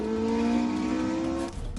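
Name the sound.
Porsche 918 Spyder hybrid accelerating in race mode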